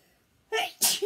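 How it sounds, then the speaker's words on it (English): A person sneezes during a paper-craft stamping session: a short soft intake, then a sharp, loud sneeze burst, followed by a second brief noisy burst, close and otherwise quiet. "Now I'm going to sneeze."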